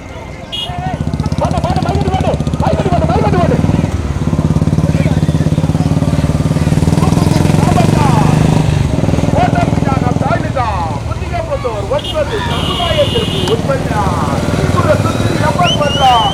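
A motorbike engine runs steadily close by throughout a Tamil village bull-cart race event at Puthiyamputhur, mixed with loudspeaker commentary and crowd noise.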